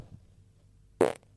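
A single loud, brief fart bursts out about a second in, after a quiet stretch of faint room noise, between teammates on a quiz night.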